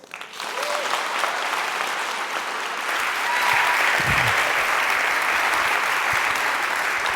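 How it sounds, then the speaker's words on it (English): Audience applause greets a guest speaker, a Delaware native, at a National Agenda 2019 public talk, a dense steady wash of clapping that starts abruptly and swells slightly louder midway, filling the hall without talk. "So please help me in giving a big round of applause to Delaware native Dan Pfeiffer."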